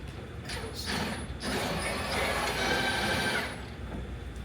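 A steady mechanical whirring of a drill runs for several seconds at moderate volume, with no talking.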